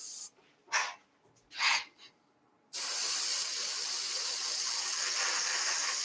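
Airflow on a cosplay prop blaster is adjusted: a few short hissing spray bursts, then a steady, continuous close hiss that runs to the end.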